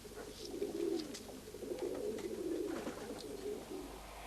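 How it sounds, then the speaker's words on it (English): Pigeon cooing in a steady, low murmuring run close by, continuing for several seconds with occasional higher chirps above it and no voices. "Then the pigeon was thrown out, and usually they arrived safely."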